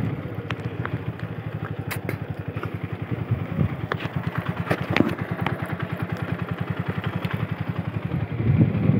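A motorcycle engine runs while being ridden, with a steady, close, rapid low thrum that holds throughout and swells slightly near the end.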